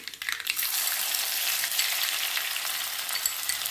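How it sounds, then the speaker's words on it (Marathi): Chopped onion with cumin and mustard seeds hits hot oil in a pan and crackles in a loud, steady sizzle throughout, with no voices. "अजून एक टीस्पून जिरे टाकले आहे कांदा ॲड करते मी"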